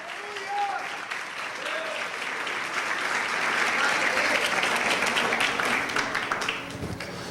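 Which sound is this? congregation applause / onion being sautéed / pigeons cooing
congregation applause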